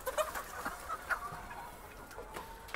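Hens cluck in short, scattered calls in the chicken section of a poultry farm, mid-distance against a quiet background with no talking.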